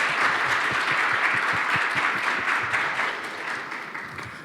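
An audience at a Korean hospital seminar on community networks for essential and severe care breaks into applause, a dense run of many individual claps that holds steady and then tapers off gradually over several seconds.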